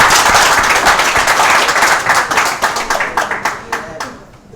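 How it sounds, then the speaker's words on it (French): Loud applause in a television studio, many hands clapping densely at first, then thinning into fewer distinct claps that fade out toward the end. "J'applaudis d'abord pour cette étape."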